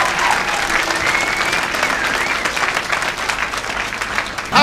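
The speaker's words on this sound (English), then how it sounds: "By a round of applause." A live audience applauds at a political talk, a dense, loud wash of clapping hands that continues unbroken for several seconds.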